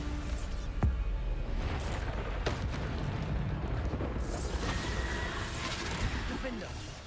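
In Hogwarts Legacy, the Bombarda spell detonates in booming, crashing blasts that rumble heavily, with sharp impacts and debris amid continuous combat noise.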